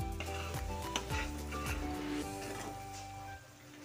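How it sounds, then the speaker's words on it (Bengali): Cashew paste for Kashmiri aloo dum is stirred and fried in a pan, giving a steady sizzle with rhythmic scraping and occasional clinks of the spoon against the pan, against a low background hum. "পেস্টটা দেওয়ার পর ততক্ষণ ভালো করে কষিয়ে নেব যতক্ষণ না কাজু বাদামের কাঁচা গন্ধটা চলে যাচ্ছে"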